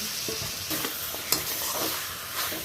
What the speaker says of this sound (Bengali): এই যে ম্যারিনেট করে রাখা চিকেনটা আমি এবার মশলার মধ্যে অ্যাড করে দেব আমি দিয়ে দিচ্ছি